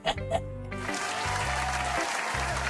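Applause sound effect in the Doki Doki Literature Club video game, a burst of clapping that swells in after a short musical phrase and carries on over game music.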